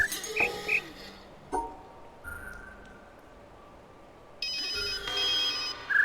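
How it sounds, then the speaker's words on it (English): A cell phone rings in short repeating trills through a noisy, crackling background in The Witness audio puzzle, the rings faint at the start, fading out, then returning louder near the end over a burst of static. "it starts giving you trash you have to listen to. In this case, a cell phone."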